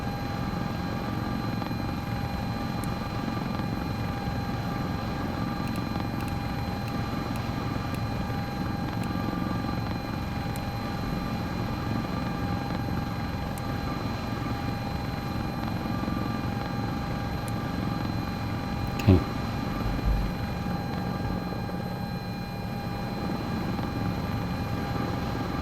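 Sikorsky S76 helicopter flying in Microsoft Flight Simulator 2024, with a steady rotor and turbine drone that holds at an even level throughout, broken only by one brief click.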